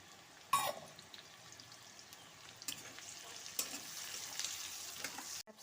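Chopped carrot dropped into hot white oil in a pan, giving a steady, faint sizzle with a louder burst at the start and light clatter throughout, no talking.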